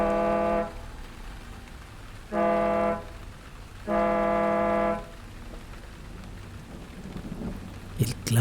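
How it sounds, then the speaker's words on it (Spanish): Three loud, sustained truck air horn blasts, the second and third each about a second long, blaring over a quiet rumbling background. "El claxon de mi camión sonó tan fuerte como si tuviera muchísima presión de aire."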